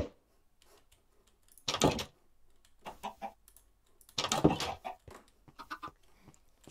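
Minecraft chickens clucking on a farm, a few short clucks and squawks between two louder bursts of in-game noise, heard close with quiet gaps in between and no speech.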